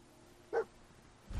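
A single short dog bark in Fallout 4, close and fairly clear against quiet game ambience.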